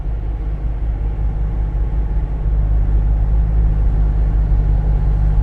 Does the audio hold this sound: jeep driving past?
yes